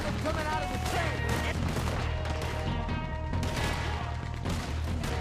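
A powerful gun fires in a video game, sustained loud bursts of heavy automatic fire with booming impacts, dense and continuous, with game sounds layered over it.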